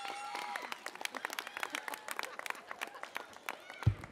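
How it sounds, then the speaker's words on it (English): Audience applause at a public event, a moderate, steady patter of many hands clapping, fairly distant, with a sharp knock near the end. "Let's give her a round of applause."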